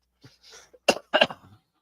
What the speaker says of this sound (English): I'm coughing, I'm hacking, runny nose.